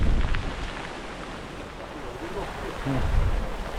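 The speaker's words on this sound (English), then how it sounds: "And it's raining heavily." Dense, steady patter of heavy rain drums close by on a Decathlon Quechua 3P Fresh and Black tent, with a few faint tonal sounds and a surge in loudness toward the end.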